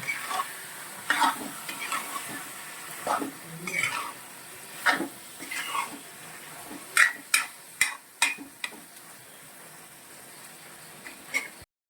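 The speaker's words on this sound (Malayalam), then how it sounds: "നന്നായിട്ട് ചിക്കനും നമ്മളുടെ ആ ഗ്രേവി ഇതും കൂടി നന്നായിട്ട് യോജിപ്പിക്കണം" Chicken is stirred into a spicy curry gravy in a pan, with repeated scraping strokes and clinks of the spoon against the pan over a soft background sizzle, growing sharper and more frequent toward the end.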